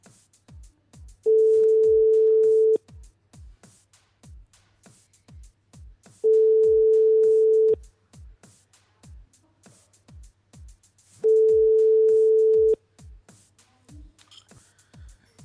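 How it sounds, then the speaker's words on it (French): An unanswered telephone call during a live radio show: three long, steady ring tones with pauses between them, while soft rhythmic thumps of background music run underneath. "Ça sonne mais ça répond pas."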